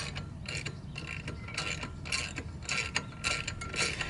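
A ratchet wrench tightens bolts on the front fender lip of a Harley 883, giving rapid clicking bursts that start and stop repeatedly, close and moderately loud.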